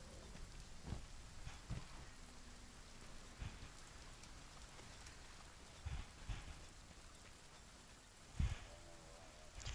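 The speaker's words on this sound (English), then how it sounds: "It's frickin' raining." Steady rain in Monster Hunter World pattering down with occasional low thuds, fairly soft and continuous, no one speaking.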